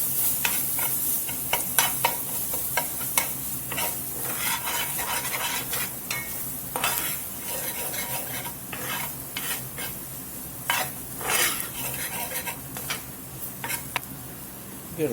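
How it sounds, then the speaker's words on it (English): Flour cooking in a pan as a base for pork gravy, stirred with a utensil; steady close sizzle under repeated scraping strokes, no talking. "Let this flour cook here a minute or two, and we'll get some milk in."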